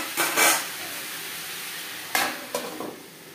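Ash gourd with turmeric and salt stirred in a pan, a few scraping strokes in short bursts separated by a quiet pause, close and fairly loud with a soft sizzle beneath.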